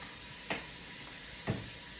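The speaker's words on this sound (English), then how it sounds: "I am frying this cabbage." Cabbage cut about a quarter inch thick fries in a pan on a stove, a soft continuous sizzle with two brief louder stirring scrapes, no talking.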